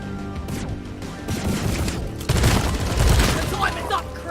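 Shotgun fire in the co-op mining shooter Deep Rock Galactic: a dense flurry of booming shots and crashes, loud and close, with a voice talking faintly alongside.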